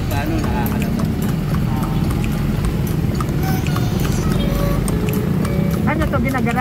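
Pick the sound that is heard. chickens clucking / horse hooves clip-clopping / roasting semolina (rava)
horse hooves clip-clopping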